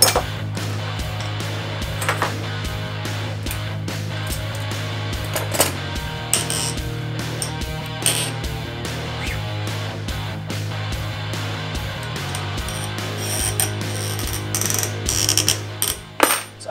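A CNC router being moved up into position for cutting a climbing hold, giving a steady mechanical whir with a low motor hum and repeated ratcheting clicks and clunks, loud and continuous with no talk.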